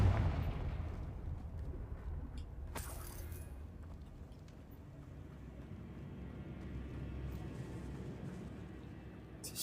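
A Confringo blasting curse from Hogwarts Legacy erupts in a loud burst at the start, then a sharp crack near three seconds, followed by a low rumbling game backdrop.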